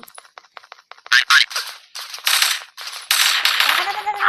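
Rapid gunfire from the online shooter game Special Soldier, with clustered bursts of shots that grow denser and louder over a few seconds while a player talks excitedly.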